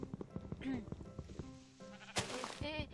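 Short sheep bleats from the video game Dream Sky rise between stretches of a person talking, with a loud burst of noise near the end.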